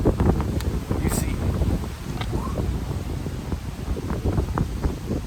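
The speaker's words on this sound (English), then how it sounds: "Man, this wind is crazy." Strong outdoor wind buffets the microphone with a constant low rumbling roar and gusty crackle, steady and loud throughout, with a voice faintly mixed in.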